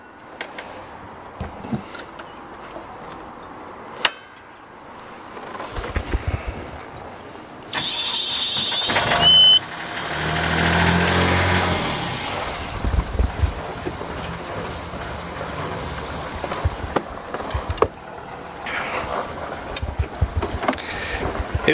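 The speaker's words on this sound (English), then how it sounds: "before starting the engine for the first time." A rebuilt sailboat engine cranks and catches for its first run, with scattered clunks and handling noises before the start. It settles into a loud, steady running drone, and wind buffets the microphone throughout.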